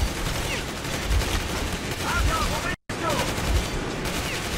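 Rapid gunfire from the post-apocalyptic shooter Metro Exodus, a dense stream of shots and bursts running steadily across the whole stretch with one brief dropout, loud and close over the game's ambient noise.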